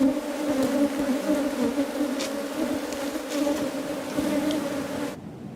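Steady, dense buzzing of many bees, continuous and fairly close, with a few brief higher whines from individual insects passing by.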